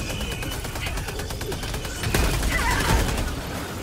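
Rapid gunfire in a co-op action shooter, dense repeated shots over a busy game mix, growing heavier and louder halfway through, with some background game noise.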